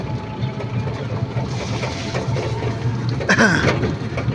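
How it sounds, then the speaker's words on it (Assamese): A tractor ploughing a field in Hojai, Assam drones steadily at a distance, a low continuous rumble under open outdoor ambience. "এইটো ট্ৰেক্টৰ খেতি কৰি আছে"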